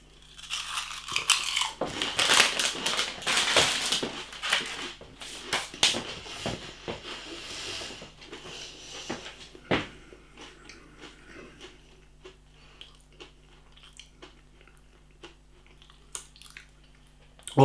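Someone eats Lidl Snaktastic crisps with a crunchy crackling of bites and chewing, loudest early on and then fading into sparser crunches and mouth sounds.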